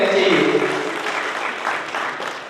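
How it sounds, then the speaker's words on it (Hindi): Audience applause at an award ceremony, a broad steady wash of clapping from a crowd, loud and sustained and slowly easing off, with a brief voice at the start. "आपकी तालियां लगातार बजती रहनी चाहिए।"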